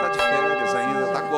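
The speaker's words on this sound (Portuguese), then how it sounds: "Aí, toca o sino, sacristão." A church bell rung by the sacristan gives a steady, sustained ringing tone with layered overtones, heard at moderate distance through the whole brief moment.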